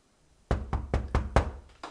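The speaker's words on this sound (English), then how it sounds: "Someone at the door." A door is knocked on indoors: six firm, evenly spaced raps follow a short near-silence, close and distinct, with no one speaking over them.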